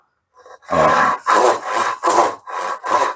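A dovetail saw cuts into wood clamped in a vise, six rhythmic rasping strokes close and loud, with a slight chattering vibration.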